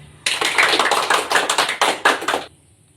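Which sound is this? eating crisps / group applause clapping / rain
group applause clapping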